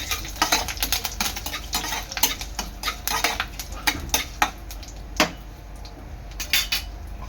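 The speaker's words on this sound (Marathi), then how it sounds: "मिरची आहे ना राई तुम्ही करदळवायची आहे" Mustard seeds and chilies crackle and pop in hot oil in a home kitchen while a utensil stirs and scrapes the pan, giving steady sizzling broken by frequent sharp close pops and clinks.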